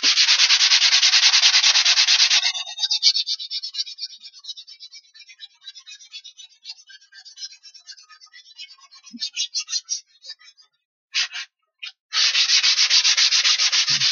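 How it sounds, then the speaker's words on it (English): Sandpaper rubs by hand over varnished wood for a camping chuckbox, a steady raspy scrubbing that breaks into quicker short strokes, pauses, then resumes strongly, close and alone. "You really prefer sandpaper doing this by hand sanding"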